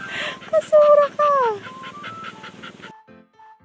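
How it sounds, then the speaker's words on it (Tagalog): A restless dog whimpers and yips in high, rising whines in an outdoor farm setting by a stream, several sharp cries in a row before trailing off into quieter background noise. "Yung aso naman na rin, napakaligalig."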